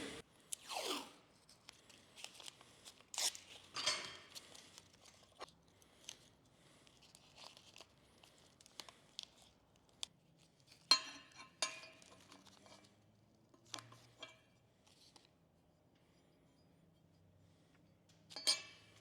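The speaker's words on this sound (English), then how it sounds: "The first thing you're going to do is tape your hooks off. I buy 2-inch blue tape." Strips of 2-inch blue painter's tape being pulled, torn and pressed by hand to mask off forged metal hooks, giving scattered crinkly rips and rustles separated by quiet pauses, close up with no talking.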